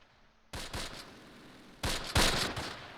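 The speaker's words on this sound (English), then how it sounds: "Machine gun fire from across the map." Bursts of machine gun fire in the World War II strategy game Close Combat, heard as several short, sharp rattling volleys from a distance, with quieter gaps between them.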